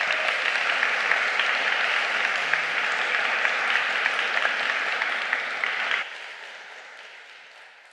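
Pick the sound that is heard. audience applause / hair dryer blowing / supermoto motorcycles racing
audience applause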